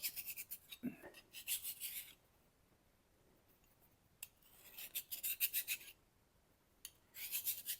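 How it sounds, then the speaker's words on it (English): A metal file is rubbed across the sole of a No 7 Bailey-style jointer plane. Close, quick rasping strokes come in bursts, with short quiet pauses between them. "So all I do is take a file and just kind of hit it."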